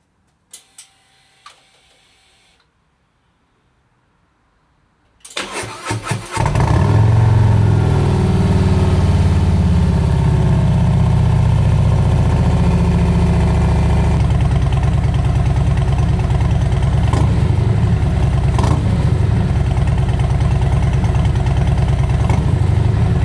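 A 2026 Harley Road Glide with Vance & Hines slip-ons fires up after a few faint clicks, then settles into a loud, deep, steady idle with a lumpy rumble that holds for the rest of the clip.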